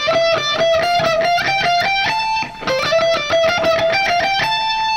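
A distorted electric guitar plays a fast solo run from a song, high sustained notes in quick succession with slides and bends, loud and continuous with only a momentary dip, no voices.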